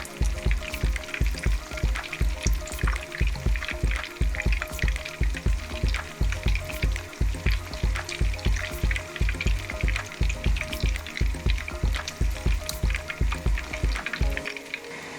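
Shrimp tempura deep-frying in hot oil, a dense, steady sizzle with rhythmic stirring or scraping pulses running throughout, close and loud, with no talking.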